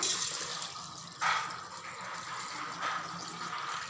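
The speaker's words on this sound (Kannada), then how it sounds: "ಸ್ವಲ್ಪ ವಾಟರ್ ಆ್ಯಡ್ ಮಾಡ್ಕೋಬೇಕು" Water pours into a pot of ridge gourd sambar in short splashing gushes, two brief surges of liquid against a soft continuous trickle, close and fairly quiet.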